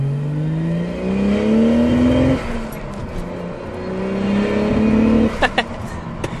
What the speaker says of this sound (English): when you do hear the specific SC300 driving past you, it's actually very special, because when you hear that 1J and you hear those turbos go off